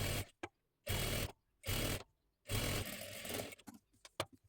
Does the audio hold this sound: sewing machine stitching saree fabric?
yes